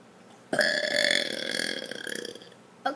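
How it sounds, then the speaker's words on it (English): One long, loud, rumbling burp from a person starts abruptly after a brief quiet, holds for about two seconds, then breaks into a rattling, fading tail, with the start of another burp right at the end. "to basically burp and show my tummy so everyone knows how I burp"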